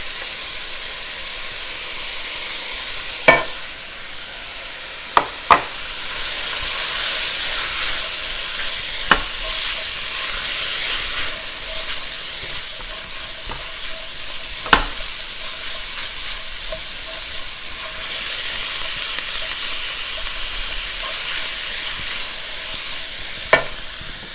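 Mushrooms and other vegetables stir-frying in a pan for chicken lettuce wraps, a steady close sizzle and hiss running throughout, punctuated by several sharp clinks of a utensil against the pan.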